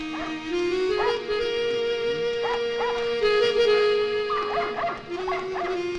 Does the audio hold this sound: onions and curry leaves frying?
no